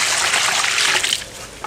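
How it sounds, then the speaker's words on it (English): Water pours and trickles steadily into a Portland cement mix for masonry steps, a loud close splashing gush that eases off near the end. "So now we're just going to add some water"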